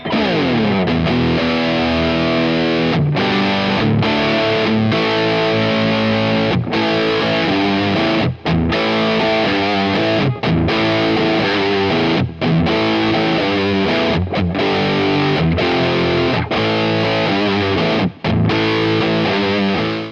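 Heavily distorted Epiphone Les Paul Custom electric guitar plays chunky classic rock chords and riffs on the neck pickup, loud and continuous, with brief rhythmic stops between phrases.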